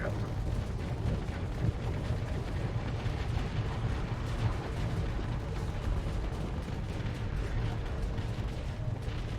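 Missiles and torpedoes fire at a station in a space video game, producing a dense, continuous rumble of booms and blasts that stays steady and loud throughout with no pauses.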